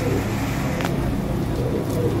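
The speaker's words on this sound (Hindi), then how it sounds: "35 कबूतर टोटल" A flock of about 35 flying pigeons cooing, low soft repeated coos under a constant hum of background noise.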